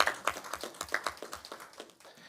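Applause at a quarterly press conference after praise for the Carnival Committee: a run of quick, evenly spaced claps at moderate loudness that thins and fades toward the end.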